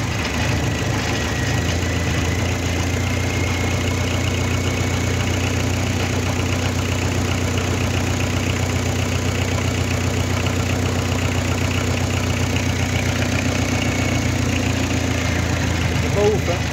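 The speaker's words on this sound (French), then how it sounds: "En pompant, elle arrive à accélérer." A Peugeot 305 car engine runs at a steady, slightly rough idle, holding a continuous low hum close to the microphone with no clear rev rise, while a voice talks over it at times.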